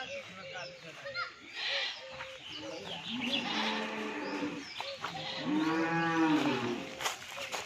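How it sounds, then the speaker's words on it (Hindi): A buffalo lows with drawn-out, tonal moos, a couple of calls in a dense jungle setting with faint background rustle and distant voices. "अच्छा भैंस है"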